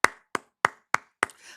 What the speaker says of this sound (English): Let's give a round of applause for AEW Dynamite.